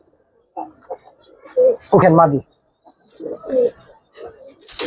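A pair of silver giribaz pigeons coos in short bursts, close and fairly loud, while someone talks nearby between the calls.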